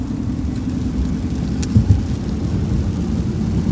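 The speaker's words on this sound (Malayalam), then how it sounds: "ദോഹയിൽ കുറേ കൊല്ലത്തിലൊരിക്കൽ പെയ്യാറുള്ള മഴ ഈ പ്രാവശ്യം നല്ലോണം പെയ്യുന്നുണ്ട്" Heavy rain in Doha, heard from inside a moving car: a steady, dense wash of rain over a continuous low road rumble, with no talking.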